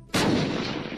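A single loud, close explosive blast goes off in the video game Unturned, a sharp sudden boom with a long rumbling decay.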